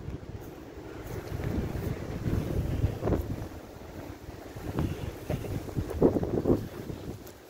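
Strong wind blows outdoors during a walk with dogs. Rumbling gusts buffet the microphone, rising and falling in waves, close and loud, with no talking.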